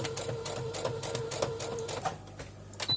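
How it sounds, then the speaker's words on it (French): A sewing machine stitches the length of a homemade fabric coaster, giving a steady rapid mechanical chatter with a constant motor hum, close and alone, briefly easing near the end. "Et on coud tout du long."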